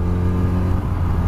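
Steady engine drone from a Yamaha R1 motorcycle on a ride near Warendorf, a continuous low harmonic hum at even, fairly loud level with no noticeable revving changes.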